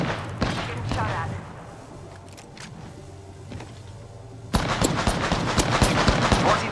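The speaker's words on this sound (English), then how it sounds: "Getting shot at." Gunfire in the shooter game Apex Legends: rapid bursts of shots, sparse early on, then a loud dense volley crackling through the final seconds.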